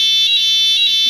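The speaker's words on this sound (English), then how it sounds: "mute the buzzer" A Honeywell Notifier fire alarm panel buzzer sounds a loud, steady, high-pitched electronic tone with a faint pulsing swell, heard up close and alone.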